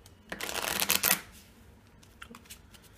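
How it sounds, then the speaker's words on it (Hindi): A deck of playing cards being shuffled by hand, a quick burst of riffling and flapping lasting under a second, followed by a few soft card taps in a quiet room. "डेक को शफल कर देता हूँ।"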